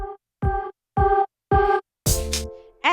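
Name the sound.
vocal gated by noise gate sidechained to kick drum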